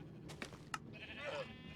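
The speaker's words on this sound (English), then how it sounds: "the sheep looks like it's coming up" A sheep in Minecraft Bedrock Edition gives a few short, soft bleats on an automatic wool farm, faint and thin over a quiet game background, with no talk.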